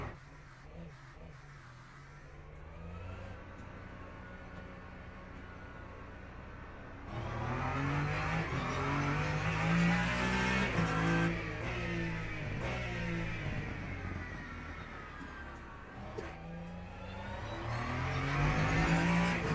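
A BMW race car engine in the Le Mans Ultimate sim racing game during practice at Circuit of the Americas, quiet at first and then growing louder with repeated rising and falling revs.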